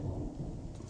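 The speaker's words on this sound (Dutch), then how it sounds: "En het begint te onweer buiten." Thunder rumbles outside during a storm with rain falling, a low continuous roll heard faintly from indoors, with no voices.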